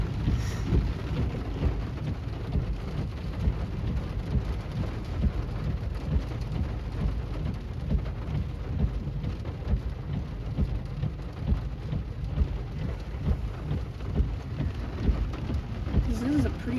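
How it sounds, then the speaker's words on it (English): Intense thunderstorm with heavy rain pounding steadily and low rumbles of thunder rolling underneath, heard from a parked vehicle; a constant dense wash of sound with brief louder swells. "This is a pretty intense storm."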